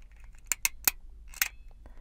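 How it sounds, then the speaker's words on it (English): Fiber optic connector cleaning pen pushed down onto a connector, producing a few sharp, close clicks: three quick snaps in a row, then one more after a short pause, in an otherwise quiet room. "push down until you hear an audible click"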